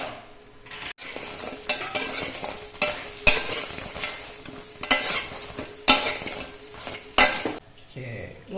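Spring onion and chicken get tossed and stirred in a hot pan, with sizzling frying under repeated scraping and clattering hits of utensil on metal, close and fairly loud, no voices.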